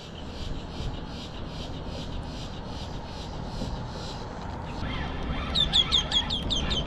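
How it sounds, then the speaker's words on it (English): Blackbirds call near a saltwater fishing spot in St. Augustine, a run of repeated high chattering notes that grows louder and more insistent toward the end over a rough outdoor background. "You tell your blackbird friends over to stop being so loud."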